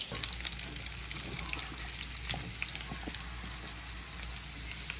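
Hamburger patties and bacon frying in hot oil, making a steady close sizzle with scattered small pops and crackles throughout and no talking.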